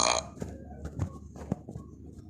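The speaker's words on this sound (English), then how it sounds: "We're having a burp contest" Cartoon burps during a family burping contest: a few short, guttural belches spaced across a couple of seconds, moderately loud, mixed with brief voice bursts.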